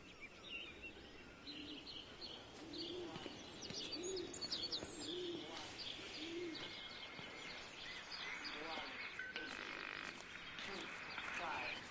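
Birds coo softly in a rural English village setting of the game Everybody's Gone To The Rapture, a series of low, rounded calls repeating about once a second over a busy ambient bed of chirps and other wildlife.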